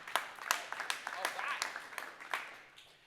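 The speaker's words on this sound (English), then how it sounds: "So, round of applause." A sparse scattering of separate hand claps from a small audience at a volunteer production gathering, quiet and irregular, with roughly a handful of distinct claps.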